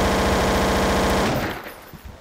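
Rapid automatic gunfire from a sniper rifle in the Garry's Mod video game, a loud continuous rattling burst that stops abruptly and leaves a short fading tail.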